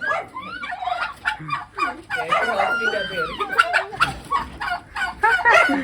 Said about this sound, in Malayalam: ഇതാണ് കോഴി